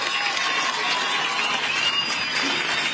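Crowd applauding at a political gathering where a Venezuelan opposition leader speaks, a continuous wash of many hands clapping, loud and evenly sustained throughout, with cheering voices mixed in.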